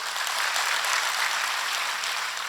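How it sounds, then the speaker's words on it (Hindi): A seated crowd at a religious saints' gathering breaks into clapping, a loud and even roar of many hands that runs continuously with no talking on top. "नहीं, तालियां नहीं"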